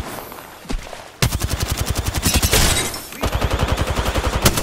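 Automatic gunfire in the Apex Legends battle royale game, loud and close, with a few isolated shots followed by long rapid bursts of evenly spaced rounds.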